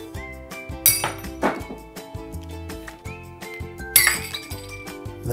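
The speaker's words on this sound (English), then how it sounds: "I'm going to use my right hand to drop the spoon." A metal spoon drops into a glass, giving bright clinks and ringing tones, two distinct impacts about three seconds apart over a steady background hum.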